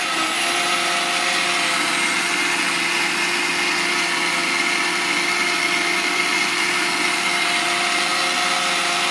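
A kitchen mixer grinder blending a fine paste runs as a loud continuous whirring motor drone with a steady pitch, alone without talk.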